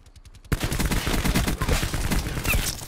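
Rapid KN57 rifle fire from a shooter video game bursts in after a short quiet lead-in and keeps going as dense, loud automatic volleys to the end.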